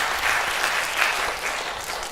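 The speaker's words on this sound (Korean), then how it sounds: "박수 한번 더 쳐줘, 우리 직장인 청년분들." A church congregation gives a short burst of steady applause for its young working members, dense and even clapping throughout with no speech over it.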